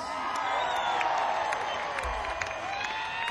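A stadium crowd at a concert at Hersheypark Stadium roars and claps continuously, a broad, steady wash of cheering and whoops heard at a distance, with faint amplified voice under it.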